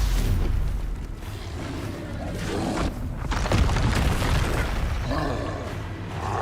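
Spell impacts in the wizarding game Hogwarts Legacy, made up of repeated muffled booms and bursts layered over a continuous rumbling game soundscape, moderately loud and busy throughout.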